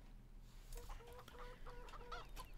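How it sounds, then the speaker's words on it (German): Chickens cluck in Farming Simulator 17 on a Siberian village map, several quick clucks after a quiet start, low in level over a steady background hum. "Hier sind auch die Hühner untergebracht."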